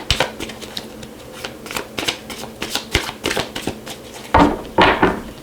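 Tarot cards are shuffled close up in quick, riffling bursts of papery flicks, ending in a couple of louder, fuller riffles.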